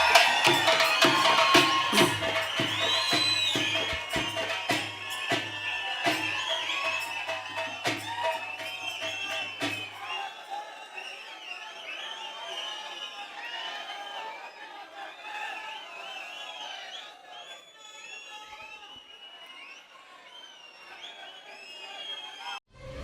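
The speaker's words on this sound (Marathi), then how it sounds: "आपण सर्वजण जोरदार टाळ्या वाजवून साहेबांसाठी स्वागत करूया" A large rally crowd at the MNS anniversary meeting loudly cheers and applauds to welcome Raj Thackeray. The dense roar and claps fill the first half, then fade to a quieter, scattered murmur.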